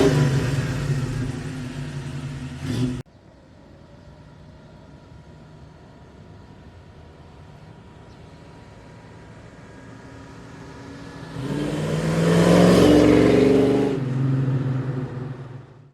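A 1965 Ford Mustang's engine drones on a drive, loud at first, then a lower steady cruising rumble, before swelling again as it accelerates near the end.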